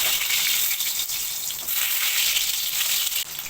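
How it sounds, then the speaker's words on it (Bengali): Mustard oil heating in a wok on a gas stove makes a loud, dense, steady hiss and light crackle that stays close and continuous throughout, with no voices. "গ্যাসের ওভেনটা অন করে কড়াইতে সর্ষের তেল দিলাম।"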